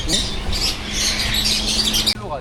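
Tethered pigeons and ducks at a street market in Taiwan give off repeated squawks and chirps amid busy crowd noise, close and fairly loud, with people talking nearby.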